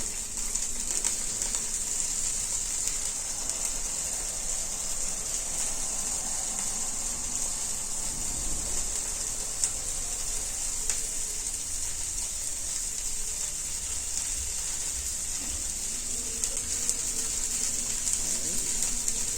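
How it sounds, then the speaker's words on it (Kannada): Broccoli and tofu frying in a little oil on a tava give a steady, close hissing sizzle with a bright crackling edge and occasional soft pops, continuous and even throughout, with no talking. "ಈ ರೀತಿ ತವಾ ಮೇಲೆ ಒಂದು ಸ್ವಲ್ಪ ಎಣ್ಣೆ ಹಾಕ್ಕೊಂಡು ಅದನ್ನು ಫ್ರೈ ಮಾಡ್ಕೋಬೇಕು"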